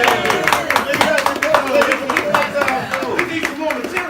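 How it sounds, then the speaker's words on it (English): An audience at a hosted conversation applauds a guest named Johnny, with energetic clapping under lively voices and chatter. "You gotta give my man Johnny a round of applause"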